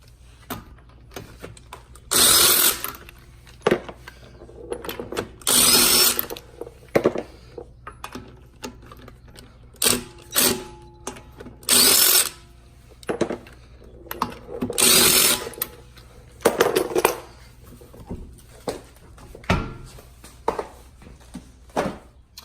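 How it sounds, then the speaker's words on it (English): A pneumatic impact wrench with a 17mm socket removing custom locking lug nuts from a Fiat 500 Abarth wheel, firing in several loud, rattling bursts of a second or two, separated by clinks of sockets and tools. "I just take an impact with a 17mm socket."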